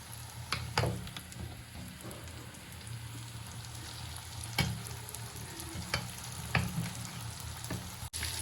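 Dal goes into a hot pan for a Pahadi dish and is stirred, with a continuous frying hiss broken by scraping spoon strokes and occasional louder clatters.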